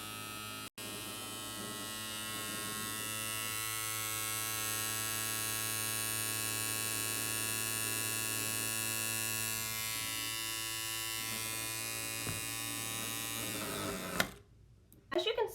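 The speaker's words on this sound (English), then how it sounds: "when the motor is hooked up to the battery, the shaft rotates very fast and it makes an interesting noise" A small electric motor wired to a battery spins its shaft very fast, giving a steady high whining buzz that runs close and constant for about fourteen seconds before cutting off abruptly.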